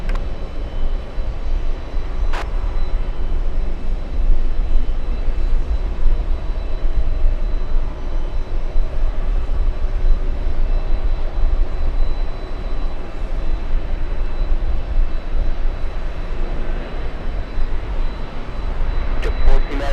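A jet airplane on runway 22 left at JFK gives a steady, loud, broadband roar that holds unbroken throughout, with a couple of brief sharper accents.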